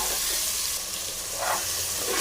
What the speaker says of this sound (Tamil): கல்லுப்பு போட்டு நல்லா வணக்குவோம்.